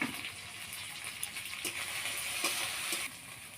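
Spice paste with turmeric fries in a pan, a steady close sizzle with light stirring scrapes and brief splashy bursts throughout, fairly quiet overall.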